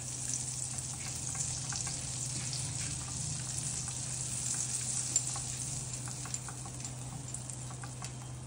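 Faint, steady frying in ghee and butter for chelo kebab, an even low sizzle with scattered light ticks throughout.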